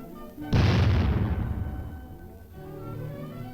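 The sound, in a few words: high-velocity shells fired at a tank armor weld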